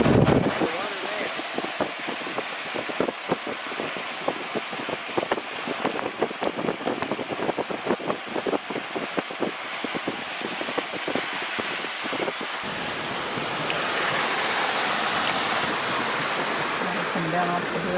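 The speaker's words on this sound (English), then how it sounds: "We're getting wind now." Wind rises during a flooding rainstorm, a sustained gusty wash over rushing water with rapid crackling spatters through the middle, then an even roar at the end.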